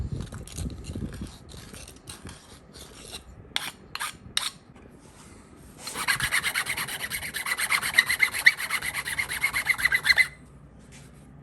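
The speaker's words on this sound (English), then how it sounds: "now I'm gonna deburr this and get this straightened up a little bit" A 1968 Lincoln Continental steering part is deburred by hand with a file, starting with a few scattered scrapes and then a steady, close rasping stroke that runs for several seconds before stopping.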